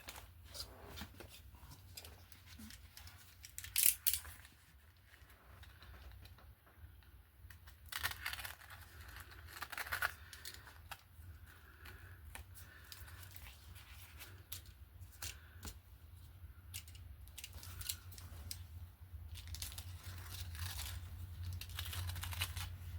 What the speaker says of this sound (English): It's funny with the glue on it, it's not like it cuts easy.